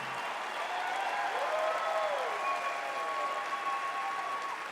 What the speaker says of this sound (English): let's give it up for Pastor Hagee